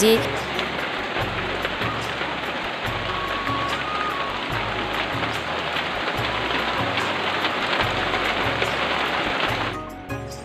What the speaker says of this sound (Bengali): আস্তে আস্তে দেখি আকাশে বৃষ্টি নেমেছে